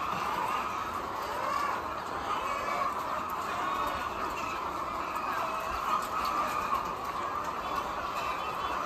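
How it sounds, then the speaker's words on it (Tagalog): Dense clucking from many chickens on a poultry egg farm in San Jose, Batangas fills the air, a constant busy chatter with a steady background hum, no one speaking. "napakaraming manok."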